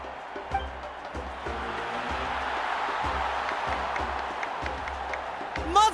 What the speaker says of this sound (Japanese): 盛大な拍手とともに舞台に上がってもらおう。